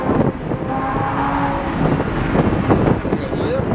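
Lamborghini Huracan on a track at a driving experience in Tampa, Florida, its engine droning loud and close with rising tonal whine under cabin wind noise and voices.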